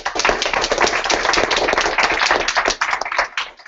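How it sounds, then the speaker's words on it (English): A round of applause from a tech meetup audience after a talk comparing image loaders, dense steady clapping from many hands close by, running the whole time and thinning near the end. "round of applause for Nelson"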